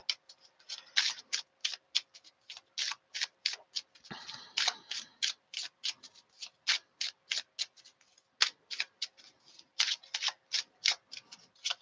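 Lenormand cards shuffled and drawn by hand in a rapid run of crisp, evenly spaced snaps and riffles, close and fairly quiet, with a brief slide partway through and no voices.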